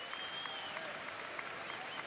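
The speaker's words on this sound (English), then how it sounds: "Pasha Alexander gets a nice round of applause from the Flyer fans." Basketball fans at a Flyers home game clap in a steady, fairly faint round of applause with no speech over it.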